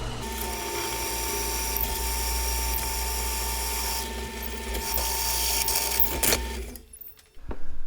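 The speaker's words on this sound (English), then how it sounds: "I drilled the hole" A drill bores a hole outdoors in the cold, its motor whining steadily and loudly for several seconds before cutting off abruptly, followed by a brief clatter.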